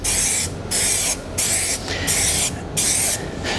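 Bullet Bond tactile adhesive is sprayed in four or five steady bursts, each a loud, close hiss lasting about half a second, separated by short pauses.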